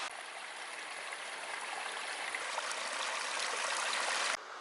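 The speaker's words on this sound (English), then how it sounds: "We've finally come across a stream that isn't dried out." Steady broadband rush of a flowing mountain stream along East Eagle Creek in the Wallowa Mountains, continuous and fairly close with no voices, ending with a slight drop in level.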